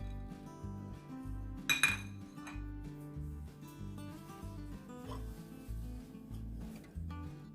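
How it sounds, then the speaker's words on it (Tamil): Fried bitter gourd tipped into a large cooking vessel, with close metallic clinks and scrapes of utensils against the pot, one louder clatter early on. "இதுக்குள்ள பொரிச்சு வச்சிருக்கிற பாவக்காயை போடுவோம்."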